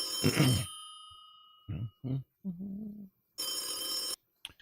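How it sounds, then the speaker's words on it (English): A telephone rings in a loud electronic burst, heard after a short stretch of talk and some scattered sounds, ending in a brief final chirp. "why don't we start off with a phone call, get things moving right along"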